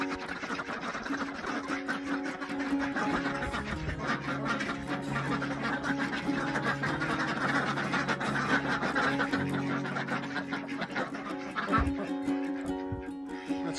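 Geese honk repeatedly around a farm coop during a winter egg check, their calls overlapping in a busy, steady din with a person talking over them.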